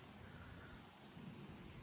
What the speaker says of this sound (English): Wow, look at this. The crickets.